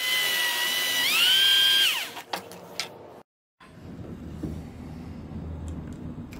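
Power drill boring a hole in wood to mount a wooden shelf bracket: a loud whine rising and holding steady for about two seconds, then stopping, followed by a few scraping clicks, a brief gap and quiet workshop handling noise.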